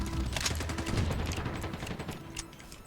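Shotgun blasts in the online shooter game Sabotaj crack out in a quick cluster of sharp reports over a busy background of other gunfire.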